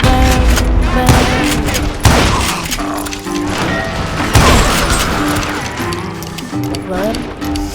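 Gunfire in the Western shooter Call of Juarez, several loud shots and booms scattered across the stretch, with talk running over the action.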